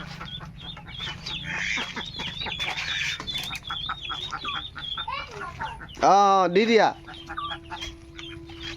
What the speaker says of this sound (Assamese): এয়া আমাৰ সৰু সৰু মুৰ্গী